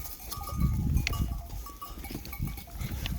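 A village flock of sheep and goats mills about close by, with overlapping bleats, shuffling hooves and a faint bell clinking through the steady farmyard noise.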